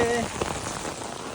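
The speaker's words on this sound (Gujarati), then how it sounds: "જોરદાર વરસાદ ચાલુ થઈ ગયો" Heavy rain pours down in a dense, hissing patter on surfaces, close and steady throughout the short stretch.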